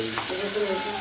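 Food being sautéed in a home kitchen pan for a family meal gives a steady close sizzle with faint stirring scrapes, heard alone without talk over about one second.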